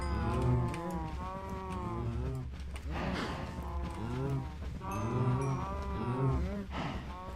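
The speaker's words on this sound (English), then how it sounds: "Let's feed up the cows again." Several cows in Minecraft 1.17 moo in repeated long, drawn-out calls, one after another, fairly close and clear over a low background hum.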